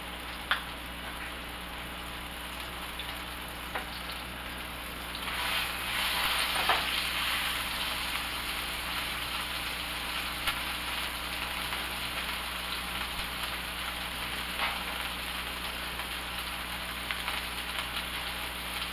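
Turkey burger patties fry in a hot pan with a steady, even sizzle that holds close and moderate through the whole stretch, rising a touch partway in, with no talk.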